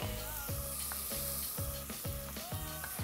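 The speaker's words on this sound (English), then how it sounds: "Now I want to go in with some ginger and some garlic." Ginger and garlic sizzle with softened onion in a hot pan, a steady bright crackle broken by regular stirring scrapes, close and alone with no talking.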